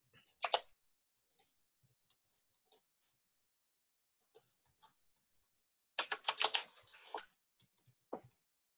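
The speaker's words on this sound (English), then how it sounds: "I assume you're typing something." Computer keyboard typing in short, sparse bursts of clicks and taps, quiet and close, with a denser flurry of keystrokes near the end and no talking.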